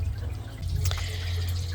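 A garden water fountain in a kitchen garden trickles steadily, a continuous low watery burble with a brief brighter splash near the middle, close by and with no one speaking.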